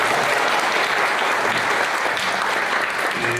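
An audience at the end of a lecture on therapeutic accompaniment breaks into dense, sustained applause, close and loud, with a few voices mixed in.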